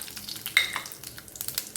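Mustard seeds spluttering and popping in hot oil during tempering for a yellow pumpkin stir-fry, a dense, crackly sizzle with quick irregular pops heard close up and alone.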